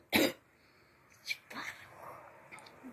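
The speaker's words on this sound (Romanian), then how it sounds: "Mai tușez din când în când" One sharp, loud human cough opens the scene, followed by a softer second cough a second later and then quiet breathy sounds and faint murmuring.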